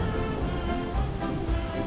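Steady rain falls on a surface as a dense, even hiss with soft irregular patter, fairly quiet and continuous, with no voices.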